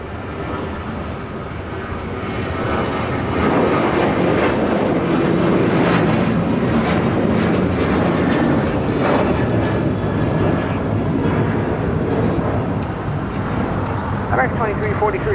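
An airliner takes off from runway 25 right at LAX, its jet engines building to a loud, sustained roar that holds steady, with radio chatter over it.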